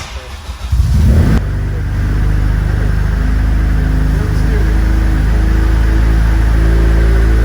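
A Honda EG chassis with a fresh K-series engine swap fires up in a shop, then settles into a loud, steady running drone close by.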